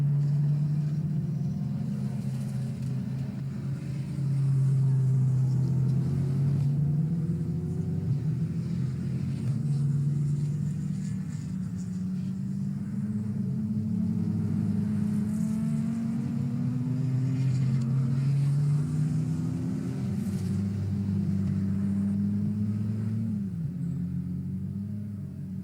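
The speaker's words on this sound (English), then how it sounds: "Going up to lap Helen Allen in her Ford Fiesta." Racing cars lap Oulton Park in a circuit race that includes a Ford Fiesta, their engines a continuous loud drone that rises and falls in pitch as the cars pass and shift, with no talk.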